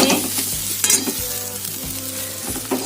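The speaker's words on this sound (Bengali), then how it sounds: "এদিকে বরবটি ভাজা বসিয়েছি একদম অল্প তেলে ভাজছি আঁচ কমিয়ে" Yardlong beans fry in a little oil over low heat, a steady close sizzle with stirring scrapes and light clinks, no voices.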